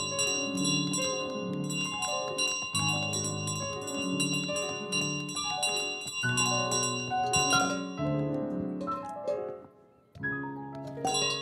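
A bell in Untitled Goose Game rings over and over in loud, layered metallic chimes with long ringing tails, tolling in a rapid irregular rhythm for about ten seconds, briefly dropping out, then striking again.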